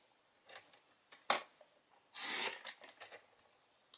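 Whisper White cardstock is cut into half-inch strips, giving a few sharp close slicing and rasping strokes with one longer drawn-out cut and brief rustles between.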